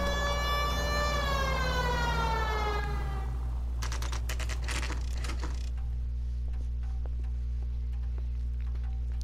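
A police car siren in the video game L.A. Noire wails in loud, rising and falling sweeps for about four seconds, then cuts off abruptly, leaving a steady low engine hum and faint clicks.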